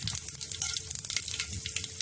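Mustard seeds and chana dal fry in heated oil, a close crackling sizzle with rapid popping throughout.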